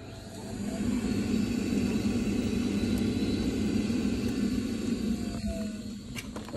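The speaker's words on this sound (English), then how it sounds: "Pump's running, pressure sensor's good." A Vaillant ecotec boiler pump running during a flooded-boiler rebuild, a steady low hum and rumble that holds evenly for several seconds close by, with faint clicks near the end.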